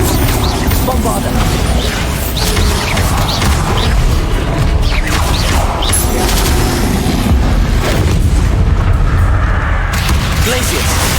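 Repeated Bombarda spell explosions in Hogwarts Legacy land as loud, heavy booms and crashes amid constant combat noise, with a voice calling out spell names throughout.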